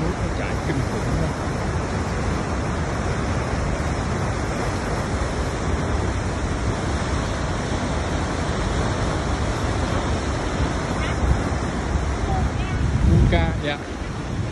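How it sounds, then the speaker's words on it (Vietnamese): Strong rushing water at Huka Falls in New Zealand roars as a loud, steady wash of broadband noise throughout, close and unbroken. "Này chúng ta thấy cái sức nước nó chảy kinh khủng đó."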